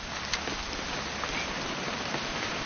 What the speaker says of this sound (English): It's going to rain the whole weekend, isn't it?